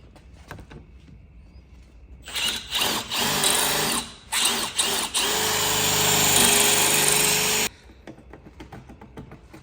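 A power drill drilling out a stuck lock roars into action for about five seconds, stopping and restarting briefly at first, then grinding steadily at high speed before cutting off.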